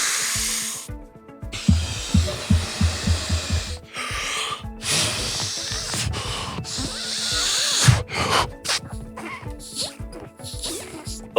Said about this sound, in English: before you blow this thing, make sure you take in a whole lot of air